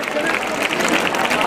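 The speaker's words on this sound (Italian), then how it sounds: "ringraziamo ancora di cuore questi eccellenti professionisti con un grande applauso" Audience applause for the performers at a charity dance evening, a dense steady wash of clapping from a crowd filling the short stretch at even loudness.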